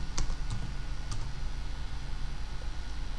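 Quick bursts of typing on a computer keyboard, close and crisp, with a few clustered keystrokes at the start and then quieter clicks over a faint steady hum.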